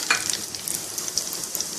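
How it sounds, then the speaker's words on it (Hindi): Steady crackling sizzle of cumin, fennel seeds and curry leaves frying in hot oil for a tempering, close up, with faint stirring scrapes. "अब हम इनको तड़का लगाएंगे।"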